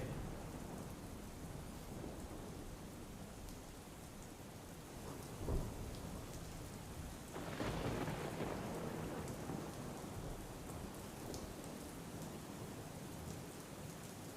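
Heavy rain pours steadily, with a deep rumble of thunder rolling in partway through, loud and continuous throughout.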